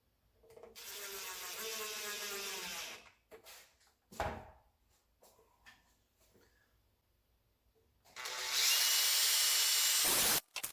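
A power drill drives number 6 by 3/4 screws during a van conversion battery build, with a whirring burst of a few seconds, a pause with small handling clicks and knocks, then a second louder sustained whir.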